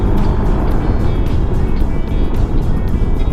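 A QJ Motor Fortress 400 maxi scooter is ridden at speed, its engine drone heavily mixed with loud, buffeting wind roar close to the rider.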